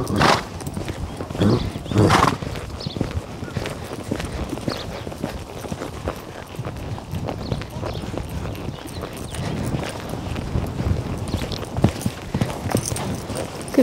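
A horse's hooves thud and clop on the ground while being jumped over a cross pole; heavy strides land close and loud early on, then softer footfalls continue unevenly.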